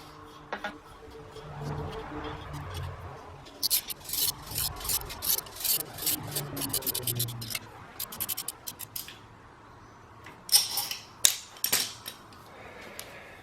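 Metal leaf springs of a Toyota F150 rear spring pack being tightened, giving close, irregular scratching and rasping scrapes in short bursts, busier in the middle and with a few sharper clicks near the end.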